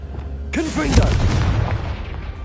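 The Confringo explosion spell from the game Hogwarts Legacy goes off as one loud, sudden boom that trails into a crackling rumble, with a shouted voice over the blast.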